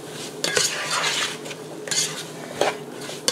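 A utensil stirs collard greens in a pot, scraping and clinking against the metal in several distinct strokes over a soft, steady sizzle, close up and without voices.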